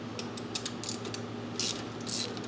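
A socket wrench ratchets on a 10 millimeter metric bolt on the Italian-made head of a Briggs & Stratton Elite 10000 generator, a run of quick clicks and creaks in short bursts, close and fairly quiet.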